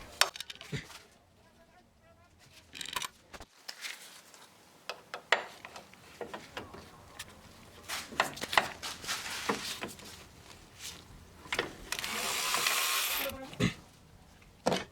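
A wrench working loose the last bolt during a water pump replacement on a first-generation Chevrolet Cruze, heard as scattered metallic clicks, ticks and clanks up close, with brief bursts of louder rattling and scraping and no talk.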